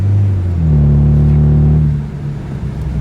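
A rebuilt BMW car on its first test drive, its engine rumbling steadily up close with a rising rev through the middle, then settling into a lower drone.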